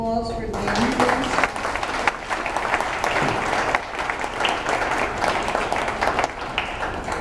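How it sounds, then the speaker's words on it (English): Audience applause for a candidate at a state representative candidate forum: sustained, dense clapping that fills the room steadily throughout after a brief spoken cue at the start. "I'd like a round of applause for Dan, please."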